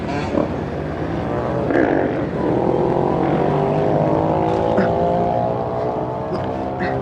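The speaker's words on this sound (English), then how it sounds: "go down the steps on the pit bike" A pit bike engine drones steadily while the small motorbike rides down a set of steps, its harmonic buzz close and continuous with faint knocks from the descent.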